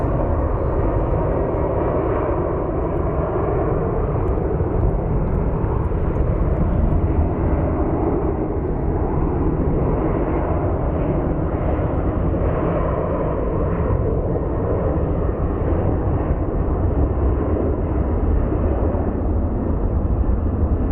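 An airliner departing Phoenix Sky Harbor International Airport for Chicago, its engine roar a steady, loud broadband rumble that holds continuously without pause.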